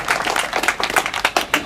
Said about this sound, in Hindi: एक बार रमेश भाई के लिए जोरदार ताली बजाएं